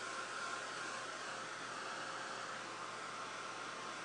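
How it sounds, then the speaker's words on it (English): Heat tool blowing hot air over a canvas being worked on, a steady loud whooshing hiss that stays constant and close throughout, with no talking. "I'll just give this another quick shot with the heat tool."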